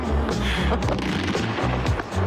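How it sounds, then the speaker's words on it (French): New Year fireworks over the Brandenburg Gate in Berlin, a dense run of booming bursts and pops rolling one after another amid a heavy, continuous crowd din. "Et ce feu d'artifice, bien sûr, Porte de Brandebourg."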